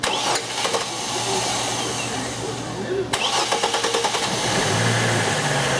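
GM car engine with a variable valve timing fault cranks and catches, then settles into a steady idle with a pulsing, slightly uneven note, close up and loud, with a second start-up burst midway.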